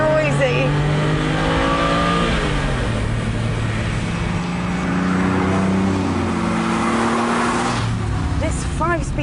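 Fast sports car engine accelerating hard, a loud, close roar climbing through the revs with gear-change dips across the whole stretch, a voice talking over it.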